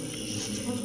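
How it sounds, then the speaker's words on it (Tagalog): A dense, steady buzz from a large colony of kept pet bees, continuous and close, with no break over a short moment. "Ang dami na po ng mga alaga niyong bubuyog."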